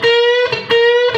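Distorted electric guitar lead lick in a classic rock style, a sustained bent note held, broken twice by quick picked attacks, loud and close with no talking.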